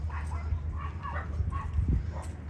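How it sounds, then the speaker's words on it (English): A small dog barks and whimpers unhappily at a busy outdoor flea market, short yips and whines mixed into crowd murmur and nearby talk. "Someone's doggy's not happy today."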